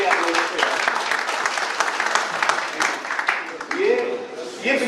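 An audience at a school safety training session gives a sustained round of applause, dense clapping filling the room from start to finish with a few voices mixed in.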